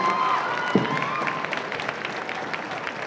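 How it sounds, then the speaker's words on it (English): Sustained applause from a crowd at a high school prom court assembly, honouring the girls tennis players: steady, dense clapping that fills the room for the full stretch without pause. "Give them a round of applause, please."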